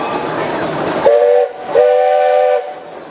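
A steam tractor in a street parade gives two whistle blasts, a short toot then a longer held one, loud and near over crowd and engine noise.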